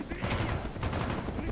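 Gunfire in the video game Call of Duty: Black Ops comes as rapid, close bursts of shots with a dense crackle that runs throughout, mixed with a voice speaking over it.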